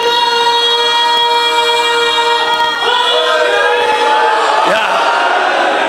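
A congregation at a ninth-Muharram majlis in an imambargah chants a religious slogan in unison, sustained loud tonal voices with pitch shifts as the chant changes midway.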